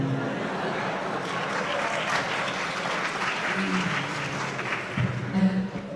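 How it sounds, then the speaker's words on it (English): Students applauding at a ceremony, steady and fairly dense clapping from a crowd in a hall that carries on for several seconds, with faint voices underneath. "My dear students are clapping because I was a professor here"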